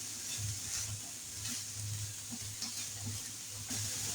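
Shredded chicken frying in a pan, with a steady, close sizzling hiss broken by soft, repeated stirring scrapes, and no talking.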